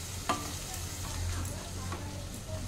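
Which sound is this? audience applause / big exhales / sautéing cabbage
sautéing cabbage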